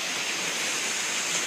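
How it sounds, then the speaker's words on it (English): Ocean waves crash against rocks beside a sea cave, giving a steady, loud wash of roaring surf and spray with no distinct individual breaks and no voices. "the waves just crash right here"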